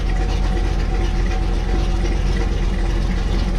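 A Corvette engine idles with a low, steady rumble that stays loud and close throughout, even and unbroken.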